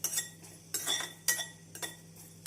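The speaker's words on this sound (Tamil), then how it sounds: "கடாயில் 2 ஸ்பூன் பாசி பருப்பை வறுத்து எடுத்து விடலாம்" Two spoons of moong dal dry-roasted in a kadai, a spoon scraping and clinking against the metal in four or five quick, close bursts separated by short quiet gaps.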